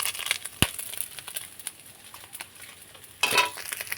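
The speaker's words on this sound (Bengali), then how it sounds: "এখানে মাছগুলো আমি নেড়ে চেড়ে ভেজে নিচ্ছি" Salted fish is stirred and fried in a pan, giving soft scraping and crackling sizzle with a sharp knock early on and a louder burst of frying noise toward the end.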